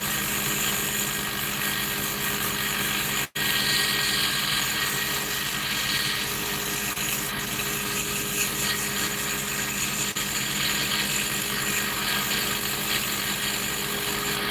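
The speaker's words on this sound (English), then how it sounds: "we're going to sand this up real quick" A power sander runs continuously on a workpiece, a steady loud whirring drone with a brief cut-out early on, then resuming evenly to the end with no talk.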